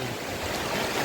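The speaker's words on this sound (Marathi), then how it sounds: "पाऊस चालू झालाय बघा." Rain pouring onto a wedding pandal canopy during a cricket match, a steady, dense hiss filling the whole moment without letting up.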